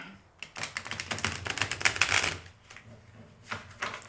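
Rapid rustling tarot card shuffling, a dense run of crisp riffles and flicks lasting a couple of seconds, then a few more scattered card taps; no voices.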